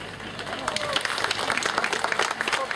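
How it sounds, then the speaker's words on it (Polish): Applause from a crowd at a rock festival, a brief burst of scattered clapping at moderate volume with some voices mixed in. "Tak, tak, gromki brawa"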